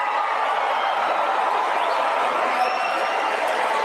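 A large crowd at a Turning Point USA AmFest event reacts with mixed noise, a dense, steady roar of voices with scattered cheers and some clapping, sustained throughout.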